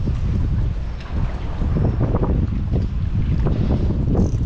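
Heavy wind roars across a small fishing boat off the Gold Coast, a loud, constant buffeting rumble close to the microphone with faint water sounds underneath and no talk.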